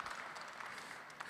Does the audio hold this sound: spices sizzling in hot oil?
no